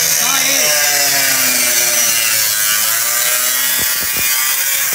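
Cutting and drilling to make facelift taillights fit a Toyota Land Cruiser 100, with a steady, close rasping saw-like grind, a few sharp knocks near the end and a voice briefly in the background.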